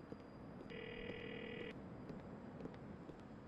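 A phone rings once during a call in Grand Theft Auto 4, a clear electronic tone lasting about a second over low background rumble with faint clicks.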